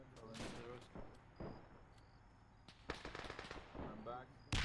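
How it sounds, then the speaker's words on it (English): M1 Garand rifles fire in a World War II battle at Henderson Field in Arma 3, sharp shots and bursts crackling at mid distance amid other gunfire while people talk over the radio. "can hear the fucking Garand pinging"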